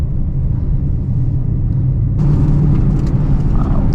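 Deep rumbling V8 of a Dodge Challenger RT heard from inside the car as it slides sideways in snow, a steady loud low drone with engine revs rising partway through.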